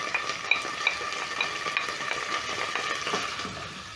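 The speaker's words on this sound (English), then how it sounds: "Stir in the onions and cook until golden brown" Onions frying in cooking oil for pilau, a close, even crackling sizzle with light scraping and clinking as a spoon stirs through the pan, no voices.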